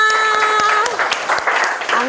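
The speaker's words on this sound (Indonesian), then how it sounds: "Tepuk tangan buat kita semua." Students in a classroom break into applause, close and lively clapping that starts under a ringing tone and carries on with voices cheering and talking over it.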